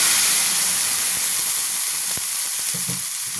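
Ground mustard and poppy seed paste hits hot oil in a kadai. A loud, bright, continuous sizzle and hiss fills the sound, with a few soft clinks of a utensil near the end. No voices are heard.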